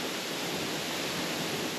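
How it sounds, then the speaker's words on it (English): Waterfall pouring down into a small creek during floods, a steady, loud, dense rushing roar that fills the whole span without a break. "We've got the waterfall there, pumping down into this little creek"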